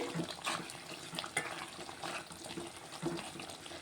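Potato, tomato and chicken curry simmering in a pot gives a soft, steady bubbling and burbling, fairly quiet and continuous, with small pops rising now and then.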